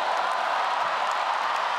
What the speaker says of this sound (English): This crowd roaring and